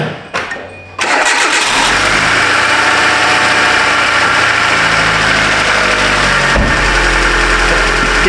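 A 2010 Hyundai Accent engine cranks briefly and catches in cold weather, then settles into a steady, loud, close idle with a constant low hum and a brief dip near the end.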